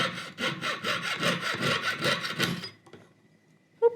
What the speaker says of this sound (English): I'll have to do a little bit of filing with that side.